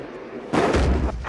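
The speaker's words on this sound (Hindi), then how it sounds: "ये फायरिंग फिर से शुरू हो चुकी है" A heavy blast of artillery shelling across the Line of Control, a single loud, deep boom that rings for about half a second after a quieter start, heard with no talking.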